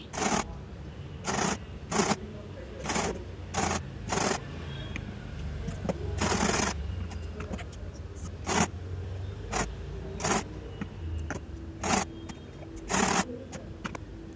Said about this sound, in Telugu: అలాగే మొత్తం లేసు ఆ విధంగా కుట్టేసుకోవాలండి